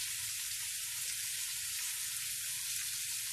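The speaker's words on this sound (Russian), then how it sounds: "И я туда вливаю томат." Tomato paste from a 700-gram jar hits a pan of frying onions, giving a loud, steady, dense sizzle and crackle throughout, close and continuous with no talking.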